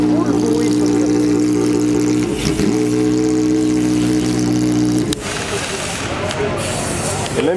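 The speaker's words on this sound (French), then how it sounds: "Ça c'est la Ferrari 430 qui faisait tout le bruit sur le capot." A Ferrari 430 race car sits stationary with its engine running, a loud steady rumbling idle with strong harmonic tones, a short blip of revs, then the note drops lower and rougher.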